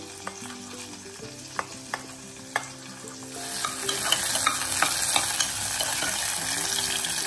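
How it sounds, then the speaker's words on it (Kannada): Avarekalu rice bath masala frying and being stirred in oil, a few sharp spoon scrapes against the pan early on, then a steady close sizzle building and holding to the end with no talking. "ಚೆನ್ನಾಗಿ ಈ ಥರ ಫ್ರೈ ಮಾಡ್ತೀವಿ"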